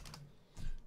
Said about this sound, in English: I was typing